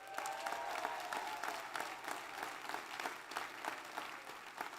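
Audience applause for newly sworn-in council members at a County of Hawai'i inauguration, a steady, fairly faint wash of many hands clapping throughout with no voices over it.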